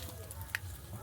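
Mustard seeds and a bay leaf go into hot oil left over from frying fish, giving a soft, steady sizzle broken by a couple of small crackling pops.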